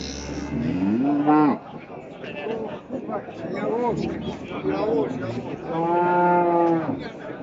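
A dairy cow at a livestock market in Bokhtar moos loudly several times, long drawn-out calls close by, with people talking in between.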